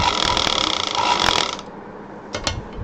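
A domestic sewing machine driven fast with its foot pedal, giving a loud rapid mechanical clatter for about one and a half seconds, then dropping to a low background with a couple of short knocks near the end.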